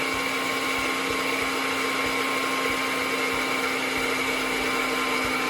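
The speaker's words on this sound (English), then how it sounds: "I'm gonna try blending it again and see what happens." A blender runs continuously at high speed, grinding a thick mixture with a steady, loud whine and faint rattling pulses, close by and alone.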